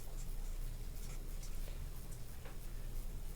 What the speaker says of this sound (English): you literally have to write no solution down